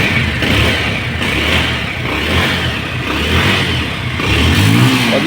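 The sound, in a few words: Bajaj Avenger motorcycle engine starting and revving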